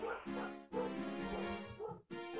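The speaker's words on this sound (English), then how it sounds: "my dog is going crazy now" A dog close by lets out a run of excited, whiny barks and yips that come in short bursts with brief gaps.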